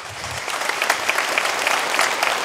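An audience at a charity concert applauds steadily, a dense wash of clapping with no voices over it.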